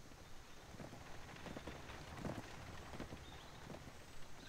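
Horse hooves clip-clop at a steady trot in the Black Desert Online video game, soft and fairly distant under a light rain-like hiss.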